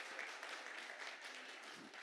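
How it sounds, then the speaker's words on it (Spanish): Congregation applause at a church service in Spanish, a steady wash of clapping for about two seconds, fairly faint and distant, with no talk over it. "Felicitaciones, un aplauso para ustedes. Pero más fuerte, que parezca cierto."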